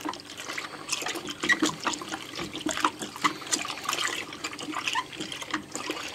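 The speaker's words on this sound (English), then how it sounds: "I'm going to take my still clean mixing spoon and I'm going to mix this up" A clean mixing spoon stirs Mr Beer brew water in a fermenter, making steady sloshing and swirling liquid noises with irregular splashes throughout.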